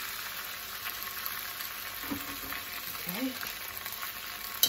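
Noodles fry in a little oil in a pan with a soft, steady sizzle and occasional stirring, quiet and close, while a voice says a single brief word.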